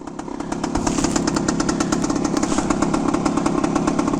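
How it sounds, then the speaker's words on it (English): A 1975 Suzuki RV125K Tracker motorcycle engine runs close by, its exhaust note a steady rapid throb that swells after the first moment and holds loud and even. "Listen to the exhaust note on this thing."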